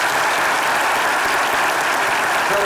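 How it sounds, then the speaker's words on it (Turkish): A studio audience at a comedy sketch show gives Atakan a sustained round of applause, a thick, even roar of many hands clapping that fills the whole stretch without pause. "bir Atakan'ı alkışlayalım hakikaten"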